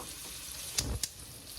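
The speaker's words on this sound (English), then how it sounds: "while those shallots are simmering" Shallots simmering in a pan for a chicken hearts recipe, a soft steady sizzle with two brief clicks from the pan, quiet and alone.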